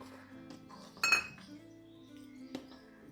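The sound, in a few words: spoon stirring condensed milk and sugar in a pan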